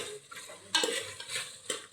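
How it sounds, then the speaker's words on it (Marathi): A spoon stirs a pot of Kolhapuri mutton curry, with scraping and clinking against the metal and a light simmering sizzle, several quick strokes close up and no voices. "संपूर्ण हलवून घ्यावे."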